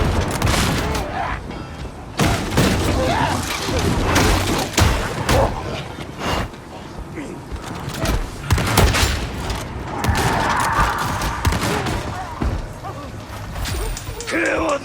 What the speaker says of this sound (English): Going grenade!